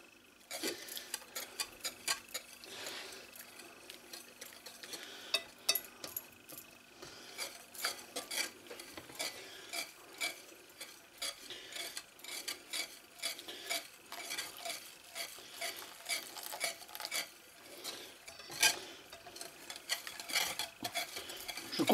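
A whisk beats cannelé batter in a bowl. The light, rapid clicking and scraping strokes run on steadily at close range with no speech.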